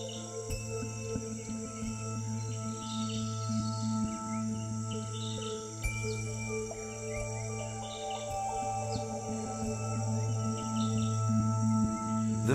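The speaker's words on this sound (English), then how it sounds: "There's a constant swarm of insects around the trees." Insects swarm around flowering Bertam palm trees, a constant layered drone and shrill buzzing chirps, with birds calling intermittently over the dense steady chorus.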